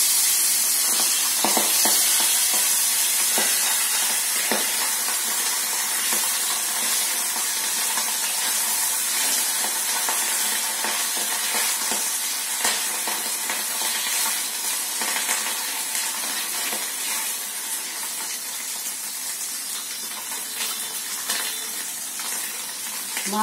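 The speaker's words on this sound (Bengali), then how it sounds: "মাছ ভাজা হয়ে গেছে" Pabda fish frying in a small pan gives a steady, close sizzle and crackle of hot oil, broad and even throughout with scattered pops and no voices.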